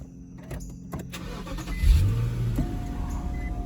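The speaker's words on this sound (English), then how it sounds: "let's turn on the car." An Infiniti M45 Sport starts up with a quick crank, then settles into a steady low idle, close and fairly loud inside a quiet space.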